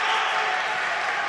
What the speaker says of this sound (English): And the crowd, it's surging.